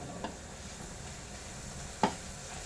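Ground spice powder dropped into hot oil tempered with cumin for a raw mango side dish, giving a soft steady sizzle with two brief clicks of a spoon.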